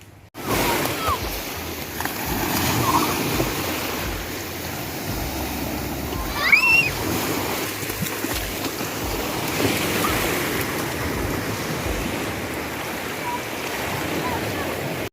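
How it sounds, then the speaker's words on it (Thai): Sea waves rolling onto the beach at Koh Samet, a steady broadband wash of surf with wind that continues through the whole stretch, while voices and other beach activity come and go faintly in the background. "เดี๋ยว เราจะไปดูที่ทะเลกัน"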